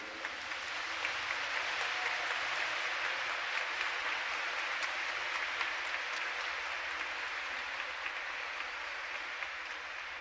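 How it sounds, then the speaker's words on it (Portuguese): Applause from a church congregation during a sermon, a steady, wide wash of many hands clapping sustained evenly for about ten seconds, moderately distant and without any voices over it. "Então agora pode aplaudir para valer"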